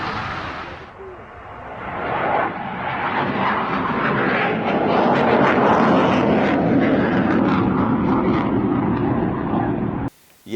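Two fighter jets streak low over the runway at the new Islamabad airport at faster-than-sound speed, a loud, thunderous roar swelling and rumbling steadily for about ten seconds before cutting off abruptly.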